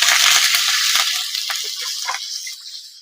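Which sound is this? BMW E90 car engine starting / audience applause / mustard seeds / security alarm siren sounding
mustard seeds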